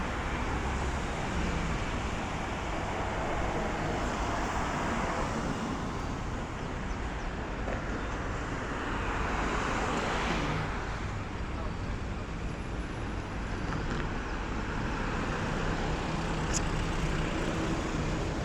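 Steady wash of road traffic passing a bus stop in Macau at night on a warm, windy summer evening, with cars and buses rumbling by continuously and a voice talking over it.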